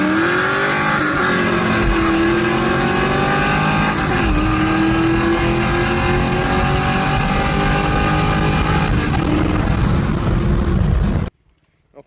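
A stock C7 Corvette and a tuned Camaro SS roar and rev in a drag race, accelerating hard side by side, rising through gears continuously before cutting off abruptly near the end.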